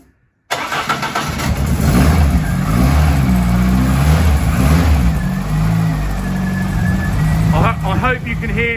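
A Ford Cortina Mk5 with a turbo Pinto engine runs and revs loudly close by, rising and settling in waves, with a voice speaking faintly over it near the end.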